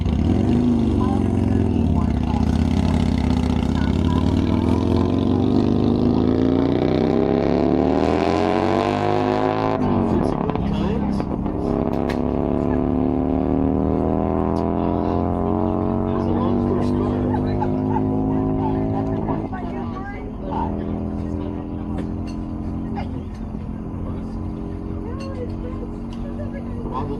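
A land speed race car runs on the Bonneville salt flats during Speedweek, its engine drone sweeping up through gears in a long rising, falling pass, loud and steady for most of the span before easing and fading toward the end.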